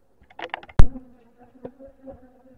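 Honeybees buzzing nearby at a hive in short, uneven bursts while frames are moved, with a sharp knock partway through and a faint hum underneath.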